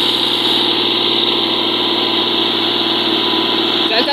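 A John Deere 5042 tractor engine runs steadily at close range with a loud, continuous throbbing hum. Faint voices can be heard beneath it.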